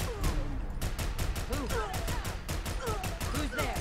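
A suppressed automatic Crude Blowback rifle chambered in .308, a Fallout 4 mod weapon, fires a long continuous burst of rapid, evenly spaced muffled thumps, with a voice faintly audible underneath.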